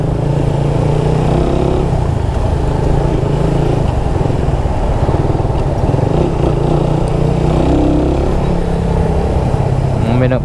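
A motorcycle rides under the Skyway Stage 3 elevated expressway, its engine droning loud and constant with heavy wind rumble throughout.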